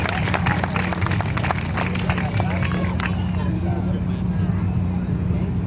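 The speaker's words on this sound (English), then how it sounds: "How about a nice big round of applause for Bert, huh?" An audience at a nighttime alligator show claps in a dense burst of applause that thins out after about three seconds, over a steady low hum while someone talks.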